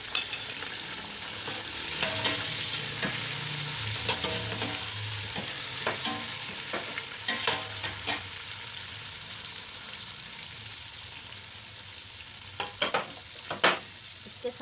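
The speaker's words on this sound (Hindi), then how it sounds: "तो अब मैं इसमें डाल के इसकी बुनाई करूँगी।" Mutton and onions sautéing in a pot for Kabuli pulao, a continuous sizzle and fry with scattered spoon scrapes and clinks, close and moderately loud.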